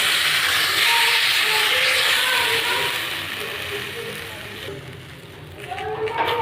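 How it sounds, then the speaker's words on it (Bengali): A soaked papad sizzles on a griddle coated with mustard oil, a continuous bright frying hiss that stays loud and close, easing slightly midway before swelling again. "এবার ভিজিয়ে রাখা পাঁপড়টা তুলে নেব, চাটুর উপর দিয়ে দেবো।"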